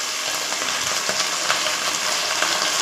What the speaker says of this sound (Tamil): போட்டு அதை நல்லா கிளறி விட்டுலாங்க.